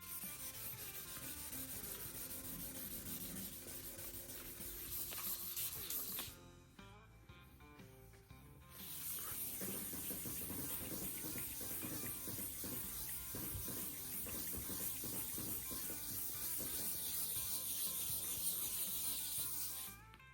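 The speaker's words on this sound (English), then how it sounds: "So right now I am done wet sanding the guitar." Wet sanding of a guitar body, a Les Paul Junior replica, with 1200 grit wet sandpaper and soapy water: steady close rubbing and scrubbing strokes continue throughout, with a brief softer pause partway through.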